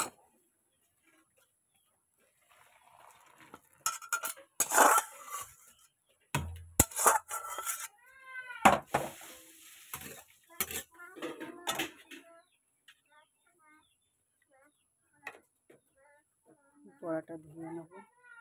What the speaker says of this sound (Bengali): কড়াটা ধুয়ে নেবো।